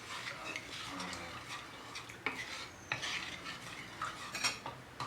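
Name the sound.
stirring tamarind water and jaggery with a spoon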